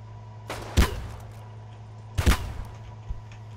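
Two sharp gunshots from the video game Deadside, about a second and a half apart, each a loud crack with a short tail, over a steady low hum with no talking.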